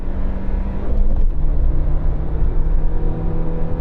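A regular Suzuki Jimny accelerates with a steady, droning engine note and a brief shift dip partway through, heard loud and close, as if from inside the cabin, with no talking.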